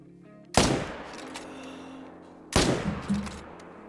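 Hunting rifle shots at a moose in the hunting game Call of the Wild, two loud, sharp cracks about two seconds apart, each followed by a fading echo over a quiet ambient bed.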